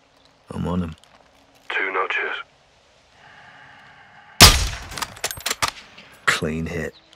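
A single sharp sniper rifle shot in Call of Duty Modern Warfare 2, bursting out loud and close between stretches of talk, followed by a short rattling tail and echo.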